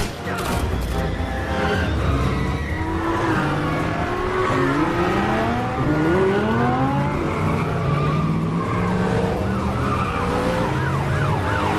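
Movie car chase with a gold-plated bulletproof getaway car, tires skidding and engines roaring loudly and continuously, with wailing siren-like tones layered over the dense action mix.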